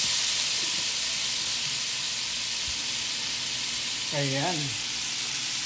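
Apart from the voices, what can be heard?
garlic sizzling as it is fried in a pan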